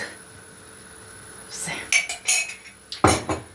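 A metal spoon scrapes and clinks against a pot in a few short bursts, close by, with quiet background between strokes.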